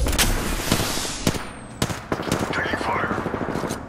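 Rapid bursts of gunfire in the video game Apex Legends, sharp loud cracks in quick uneven clusters with a whooshing sweep between them.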